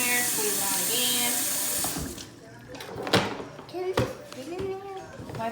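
A kitchen tap runs hard at first, then the flow breaks up into splashes and drips as a cloth is rinsed and wrung under it, with scattered faint voices in the background.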